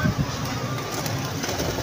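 A pigeon coos at a pigeon club loft, soft low rounded coos repeating close by over a noisy outdoor background, with faint voices in the distance.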